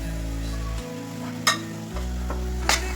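Prawn chutney masala with turmeric, onion-garlic masala, kitchen king, coriander-cumin powder and red chilli frying in a pan, a steady close sizzle with a couple of sharp scraping stirs.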